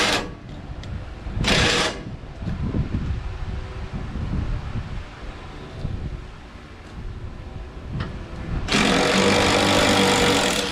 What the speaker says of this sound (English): the sanding is probably going to take a full day to sand this thing out